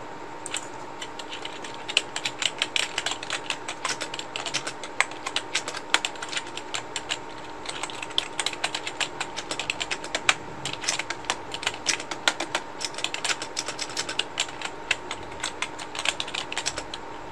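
Rapid clicking keystrokes on a computer keyboard run continuously in an uneven patter, picked up faintly through a webcam microphone, with no voices.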